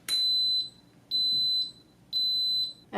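An Instant Pot Duo Mini pressure cooker gives three loud, evenly spaced electronic beeps, each about half a second long with a short gap of quiet between.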